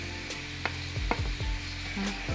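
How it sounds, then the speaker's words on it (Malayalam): Cutlet mixture being slowly sautéed and mixed in a pan, a soft continuous sizzle broken by a few scraping spatula strokes and light knocks, close and unaccompanied by voices. "പതുക്കെ എല്ലാം കൂടെ മിക്സ് ചെയ്ത് വഴറ്റിയെടുക്കുക"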